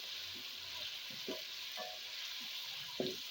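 Garlic and ginger paste fries in a pan for potato and spinach sabzi, a steady close sizzle broken by a few stirring scrapes and soft clicks of a spoon, with no talking.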